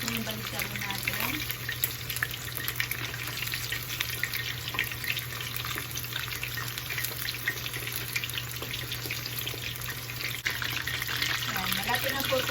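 Chicken wings for honey garlic wings frying in oil in a crowded pan, a constant dense sizzle with a low steady hum underneath that runs throughout, close and even in level.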